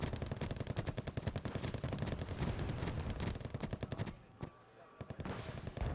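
Rapid bursts of rifle fire in the video game Wargame: AirLand Battle crackle in quick succession, loud and sustained, then briefly cut out before a few more shots resume.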